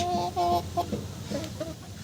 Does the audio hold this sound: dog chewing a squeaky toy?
no